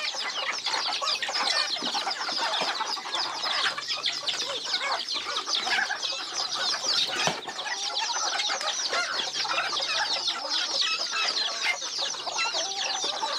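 A large flock of chickens on a farm clucks and chatters loudly and continuously while being fed, a dense overlapping din with occasional wing flaps, up close.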